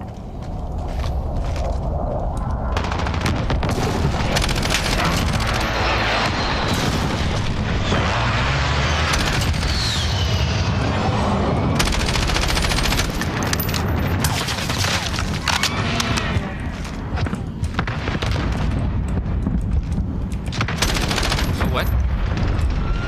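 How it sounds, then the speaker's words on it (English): An enemy precision airstrike and gunfire in the video game Call of Duty Modern Warfare, hardcore mode, keep up continuous heavy booms, rattling automatic bursts and explosions throughout, loud and dense with no pauses. "Enemy precision airstrike. Take cover."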